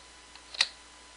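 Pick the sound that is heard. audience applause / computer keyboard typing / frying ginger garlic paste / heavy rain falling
computer keyboard typing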